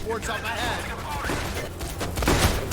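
Rapid bursts of gunfire and booming blasts in the video game PAYDAY: The Heist crackle steadily, with someone talking excitedly over the action.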